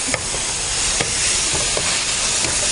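Mushrooms stir-frying in a hot pan, giving a dense, continuous sizzle and hiss with occasional soft scrapes and clicks of stirring, close and steady throughout without any talking.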